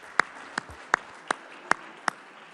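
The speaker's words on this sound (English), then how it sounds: "Let's give them a round of applause for what they do" Six sharp, evenly spaced claps ring out in a quiet state legislature chamber, each a crisp isolated smack about a third of a second apart over faint room tone.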